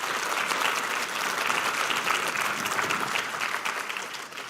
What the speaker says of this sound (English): A huge round of applause for these folks.